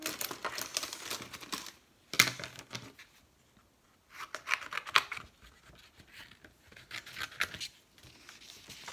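Scissors snip through aluminium foil in short bursts of crisp, crinkly cutting, separated by brief pauses, close and fairly quiet with no talking.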